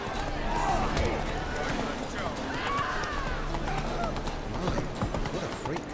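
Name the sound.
horse Roach clip-clopping in The Witcher 3 video game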